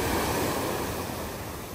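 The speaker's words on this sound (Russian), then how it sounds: "И вот мне не нравится вот эта волна." Sea surf rolling onto the shore on a Thai island, a loud, steady roar of breaking waves with a faint wind hiss and no voices.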